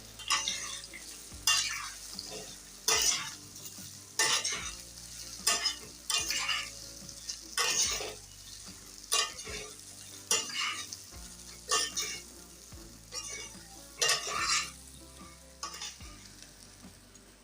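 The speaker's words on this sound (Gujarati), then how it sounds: "હવે આપણે મુઠિયાને વઘારમાં અંદર સરસ ફેરવી દઈશું" A spoon repeatedly scrapes and stirs steamed bottle gourd muthiya dumplings in a sizzling tempering pan, steady rhythmic strokes about once a second over a continuous fry hiss.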